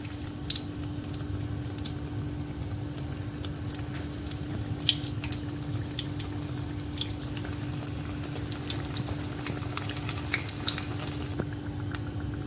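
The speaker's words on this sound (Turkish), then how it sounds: "Kızgın yağ içerisine böreklerimi bırakıyorum." Yogurt puff pastries (puf böreği) dropped into hot oil, giving a steady close frying sizzle with scattered tiny pops and bubbling throughout, no voices.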